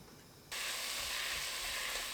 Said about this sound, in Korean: 냄비에 김치, 들기름 1큰술 넣고 중불로 1분 30초 볶습니다.